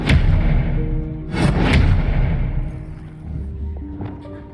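Expelliarmus disarming spell cast in a Hogwarts video game, a couple of loud thumping bursts in quick succession with a rumbling tail, followed by softer game sounds.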